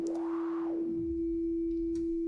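A synthesized sine-wave tone for automotive sound design in QNX Sound, holding one steady pure pitch throughout while a fainter tone sweeps up and back down, clean and continuous with no voices.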